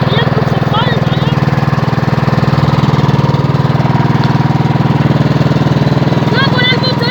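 A secondhand lawn mower engine idles steadily while warming up, a loud continuous rapid chugging throb that holds even throughout, with a voice speaking briefly over it.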